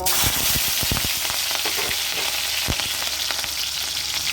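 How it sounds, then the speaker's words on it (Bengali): Onions with chopped chili frying in hot oil, a steady loud sizzle with crackling pops and occasional stirring clatters throughout, no voices. "লঙ্কা কুচি দিয়ে, পেঁয়াজ ভেজে নিই।"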